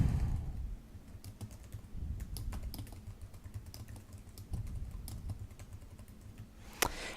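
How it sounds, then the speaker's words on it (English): Title of a book being typed on a computer keyboard, a steady run of close, crisp key clicks with one sharper tap near the end, no talking. "I'm going to enter the title of the book."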